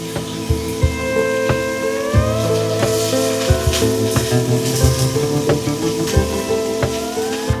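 Herbs sizzle steadily in hot oil for a Persian green plum stew with chicken, a dense continuous crackle with sharp pops and occasional stirring knocks, close and fairly loud with no talking.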